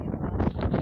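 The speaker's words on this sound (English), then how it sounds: "Oh, it's windy." Wind buffets the microphone outdoors during a walk, a steady low rumble with no break that fills the clip and stays loud and close.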